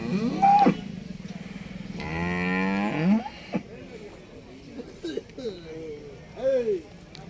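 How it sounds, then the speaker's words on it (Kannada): A Hallikar bull lets out several deep, drawn-out moos, one long bellow in the middle followed by shorter lowing calls, fairly close. "ಇವು ಕೂಡ ತುಂಬ ಚೆನ್ನಾಗಿದ್ದಾವೆ ಎತ್ತುಗಳು"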